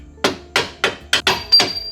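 A hammer strikes a flathead screwdriver against a bolt on a Subaru BRZ, six sharp metallic blows in a steady rhythm, close and loud.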